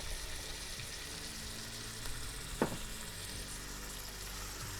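Minced hamburger meat sizzles steadily as it browns in an Instant Pot with minced garlic, a continuous hiss with a single brief scrape partway through and no talking.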